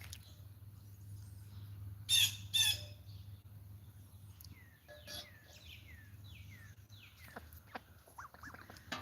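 A duck squawks loudly in a couple of sharp bursts near the start, followed by scattered chirps and calls from other birds over a low steady hum outdoors, with no talk.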